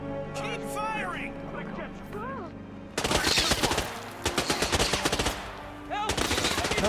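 Rapid bursts of automatic gunfire in the video game Hitman 2, sustained volleys from about three seconds onward with brief pauses between strings of shots, loud and close, with game voices heard earlier.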